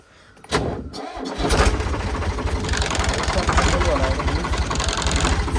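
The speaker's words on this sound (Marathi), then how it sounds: "आता ट्रॅक्टर चालू करू" A tractor engine cranks and catches after a brief pause, then settles into a steady, loud, rhythmic idle close by, with a voice talking over the start.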